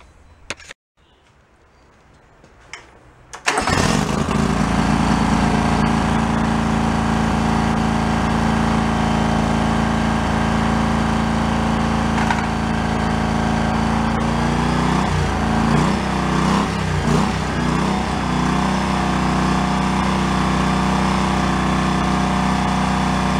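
A John Deere riding lawn mower's small engine runs steadily at a constant, fairly high idle, loud and close, after a quiet couple of seconds at the start.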